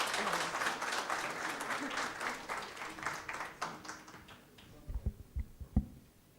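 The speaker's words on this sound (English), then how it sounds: "A big round of applause." An audience at a coaching event applauds to welcome the keynote speaker, a sustained round of clapping that thins out into a few last sharp, isolated claps.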